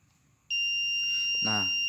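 Silence, then an electronic buzzer on an ESP8266 baby-cry sound sensor starts suddenly and holds a steady piercing tone, with a brief voice cutting in beneath it.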